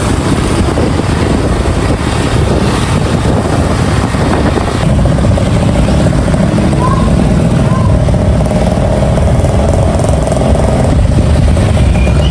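Motorcycles and tricycles pass through busy town traffic in Infanta, Quezon, on a festival lights night, making a constant loud engine drone with buzzing passes and voices mixed in.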